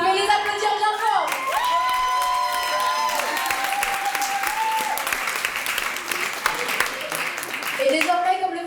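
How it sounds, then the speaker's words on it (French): A crowd at a school dance claps long and steadily after the king and queen are announced, a full, sustained roar of applause with a few cheers and voices mixed in. "Vous pouvez les applaudir bien fort."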